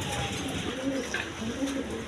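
A room full of pigeons gives off continuous overlapping low cooing, a dense steady murmur from many birds at once, with a hint of background voice.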